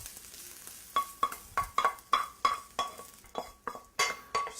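Shallots fry in a pan for a pumpkin ravioli filling, a soft sizzle broken by a quick, regular run of utensil clinks and scrapes against the pan as they are stirred close by.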